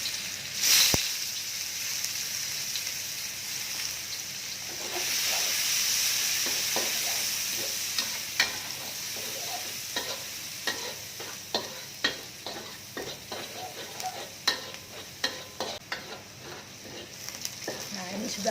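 Shallots and garlic frying in an oiled pan for a leek and fish stir-fry, a steady close sizzle with repeated sharp scraping stir strokes growing more frequent toward the end, no talking.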